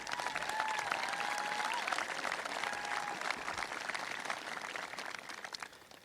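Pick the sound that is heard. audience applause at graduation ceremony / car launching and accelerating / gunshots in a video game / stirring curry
audience applause at graduation ceremony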